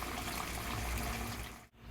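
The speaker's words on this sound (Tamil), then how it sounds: "கரைச்சி வச்ச புளியை ஊற்றிக்கலாம்." Dissolved tamarind water poured into a cooking pot for prawn kulambu, a steady rushing splash of liquid lasting almost two seconds before cutting off abruptly.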